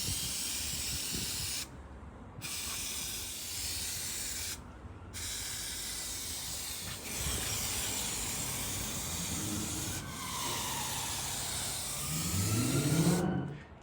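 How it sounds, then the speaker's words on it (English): Trimfix spray glue hisses from an aerosol can in several steady bursts separated by short pauses, close and fairly loud, with a louder final blast near the end. "you're going to basically be spraying glue upside down or at an angle, and the fuller the can, the more even the spray."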